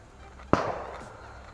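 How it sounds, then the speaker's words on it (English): A single sharp, loud pop like a firecracker bursts from bamboo burning in an outdoor fire, with a crackling tail fading over the next second. "Oh, the sound of bamboo burning in the morning."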